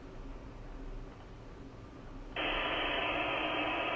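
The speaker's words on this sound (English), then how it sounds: "And now I'll turn the white noise on." White noise is switched on through a conference room audio system, cutting in abruptly after a quiet stretch of faint hum and then holding as a loud, steady hiss to the end.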